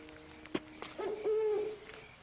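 An owl hoots outdoors at night while people search the woods, giving one sharp call and then a longer, wavering hoot that stands alone at moderate loudness with no talk over it.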